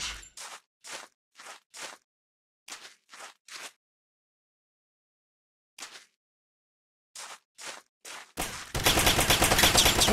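Gunfire in a mobile Android FPS shooting game, short bursts of rapid shots spaced by silences, ending with a loud continuous roar of sustained fire.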